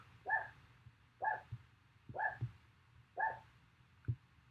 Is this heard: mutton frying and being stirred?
no